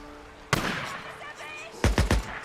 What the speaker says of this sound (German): Da hinten gibt es auf jeden Fall Geballer.